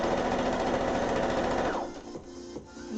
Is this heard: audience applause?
no